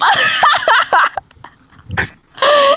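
A dog at a rice field whining and yelping in short, high bursts, close by, with a brief scuffling noise between the cries.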